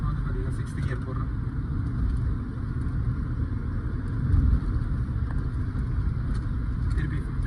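Mahindra XUV500 with a gearbox fault cruising as it shifts into sixth gear, giving a steady low engine and road rumble inside the cabin with someone talking over it.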